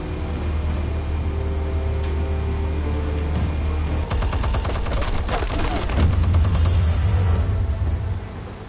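Gunfire in the Batman Telltale Series video game, a loud rapid burst of machine-gun shots starting abruptly mid-clip over a low rumbling background, then giving way to a heavy deep drone.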